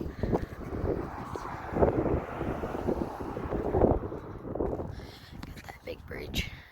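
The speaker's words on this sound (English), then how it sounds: "It's windy and freezing." Wind gusts buffet the microphone outdoors at the Hoover Dam, a rough, loud rumbling roar that rises and falls throughout, with people talking underneath it.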